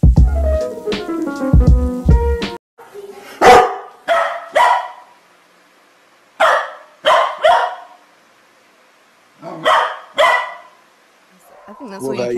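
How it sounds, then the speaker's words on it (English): Dog barking in a house, a series of sharp, loud barks in clusters with pauses between, after voices and music at the start. "Have you got a wild animal in your house? It's a dog, yeah."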